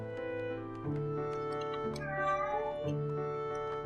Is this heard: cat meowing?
yes